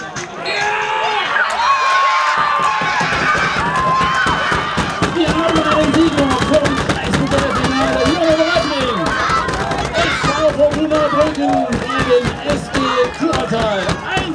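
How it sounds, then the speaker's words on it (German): Football fans of SV Fortuna Brücken cheer and shout loudly and continuously after winning a district cup final, a dense close crowd roar with whoops and overlapping voices throughout. "Der Jubel war riesengroß."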